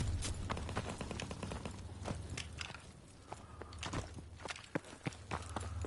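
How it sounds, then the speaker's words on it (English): Footsteps in the World War II shooter game Call of Duty WWII, a run of quick crunchy steps with sharp scattered impacts and a few louder bangs, no talking. "I can hear footsteps."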